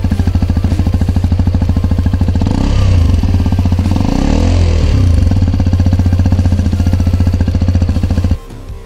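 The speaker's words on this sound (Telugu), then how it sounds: "మనకి సైలెన్సర్ నుంచి మనకి ఎట్లా సౌండ్ వస్తుంది చూడండి" A Hero Xpulse 210 motorcycle runs loud and close with a steady, throbbing engine and silencer exhaust note that swells slightly midway, then cuts off sharply near the end.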